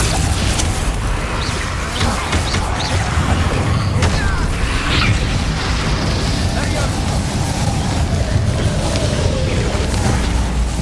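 Confringo and Bombarda spell blasts in the game Hogwarts Legacy, heavy continuous rumbling booms and crashes that stay loud throughout, with voices speaking over the dense battle noise.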